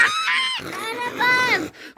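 A child's toy car horn honks in a few harmonic, goose-like blasts, close and fairly loud, with short gaps between them and a brief pause near the end.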